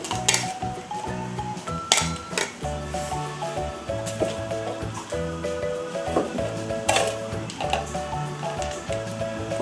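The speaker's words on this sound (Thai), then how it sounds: "ต่อไปเราจะมาตำน้ำจิ้มซีฟู้ดกันเลยนะคะ" Garlic and bird's eye chilies pounded in a mortar for a seafood dipping sauce, a steady run of close, dull thuds with wet squishing and occasional clinks, repeating rhythmically throughout.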